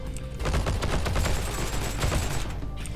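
In the video game Heroes & Generals, a Thompson M1A1 submachine gun fires a sustained, loud, rapid automatic burst lasting nearly three seconds, close and dense with no talking.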